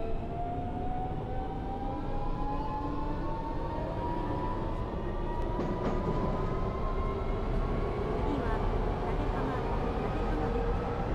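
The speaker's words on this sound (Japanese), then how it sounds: "急行立浜行きが発車します" An express train pulls out of a station in the railway simulator game Train Crew, a continuous rumbling drone with rising motor whine, steady and moderately loud for the whole stretch.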